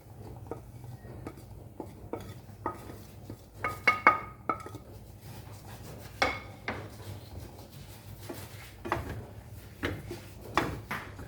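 Spice powders stirred into grated coconut roasting in a pan for Kerala fish curry, with repeated spoon scrapes and metallic clinks against the pan, a few sharper knocks standing out over a low steady kitchen hum.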